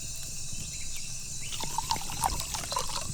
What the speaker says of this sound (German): das Wasser kocht schon